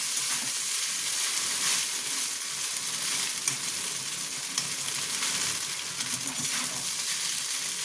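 Vegetable chowmein sizzles and fries steadily in a pan, with a dense continuous hiss and faint stirring scrapes, fairly close and without any talking.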